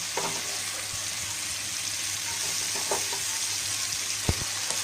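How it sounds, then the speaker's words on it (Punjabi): Chopped ridge gourd frying in a pan of masala, giving a continuous dense sizzle with a few short scrapes and knocks as it is stirred, close up and steady with no voices. "ਹੁਣ ਅਸੀਂ ਇਸ ਵਿੱਚ ਤੋਰੀਆਂ ਪਾ ਦਵਾਂਗੇ ਤੇ ਤੋਰੀਆਂ ਨੂੰ ਮਸਾਲੇ ਵਿੱਚ ਮਿਕਸ ਕਰ ਦਵਾਂਗੇ"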